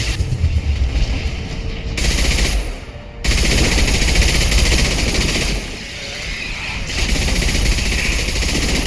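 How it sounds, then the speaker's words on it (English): Sustained heavy automatic gunfire in the Mass Effect 2 shooter, a loud dense continuous barrage with brief dips and breaks between bursts, no talking. "Heavy fire."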